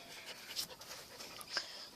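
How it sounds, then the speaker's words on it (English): A dog pants quietly in a backyard, with soft rapid breaths and a couple of slightly louder puffs, faint and close with no talking. "This is my dog."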